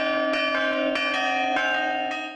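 Church bells ring out in a Champagne wine-country setting, several resonant strikes overlapping in a sustained metallic wash that slowly fades, with no voices.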